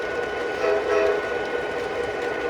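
A model train runs along its track in a layout yard, producing a steady rolling rumble with a brief whistle-like tone rising near the middle, fairly close and continuous.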